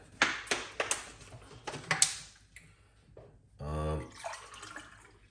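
Water pours into a blender in a short, steady gush after some clattering and clicks, a brief splashing fill lasting about a second, fairly close.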